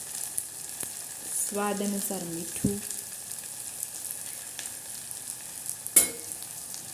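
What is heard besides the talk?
okra sizzling while frying in a pan with spices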